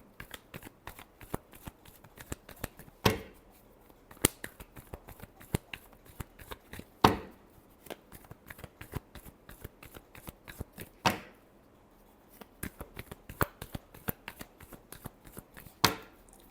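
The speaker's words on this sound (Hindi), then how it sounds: "last shuffle" Tarot cards are shuffled by hand at close range in repeated quick riffling bursts, with soft card taps and a few sharper slaps between rounds.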